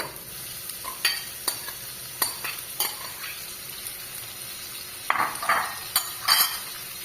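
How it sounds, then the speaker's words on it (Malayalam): Sliced onions with curry leaves and salt sautéing in a little oil in a pressure cooker for egg curry, a soft continuous sizzle with repeated sharp spoon taps and scrapes against the metal as the onions are stirred. "കുറച്ച് ഉപ്പുമിട്ട് നന്നായിട്ട് വഴറ്റുക."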